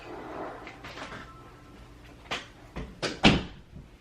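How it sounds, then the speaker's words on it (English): Close by indoors, a door is pushed shut in a quick series of knocks and thuds, the final bang the loudest, after some quiet shuffling. "close the door so that way you're not hearing all that background noise"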